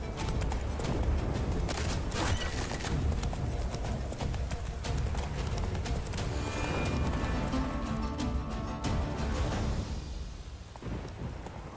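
Roach, the horse in the video game The Witcher 3: Wild Hunt – Blood and Wine, gallops with rapid, rhythmic hoofbeats that are loud and close. Rumbling weather sounds run beneath, and the hoofbeats fade slightly toward the end.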